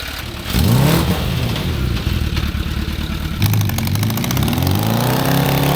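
A motorcycle engine mounted in a quad, its muffler ratchet-strapped, starts up and runs loud and close with a rough, uneven idle, revving up mid-clip before settling back to a throbbing idle.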